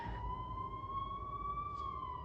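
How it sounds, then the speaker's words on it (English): A single wailing siren holds a steady, slowly bending tone, faint and distant over a low rumble of background noise. "I hear sirens in the distance"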